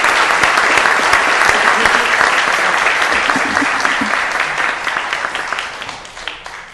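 Council meeting audience applauding, steady dense clapping that starts loud and close, then gradually thins and fades out over several seconds.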